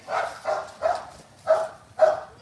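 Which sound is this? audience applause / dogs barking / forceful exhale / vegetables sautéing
dogs barking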